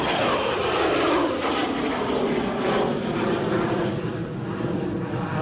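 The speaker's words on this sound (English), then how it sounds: "So this Embraer Praetor 600 is off to..." An Embraer Praetor 600 business jet at Edinburgh Airport produces a loud, continuous engine roar with a slowly shifting tone as it passes, heard steadily from start to finish.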